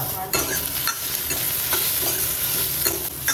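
Fennel and cumin seeds dry-roasting in a pan for a Tamil Nadu-style kuzhambu, with a spatula scraping and stirring in repeated strokes over a faint steady sizzle, close and alone without talk.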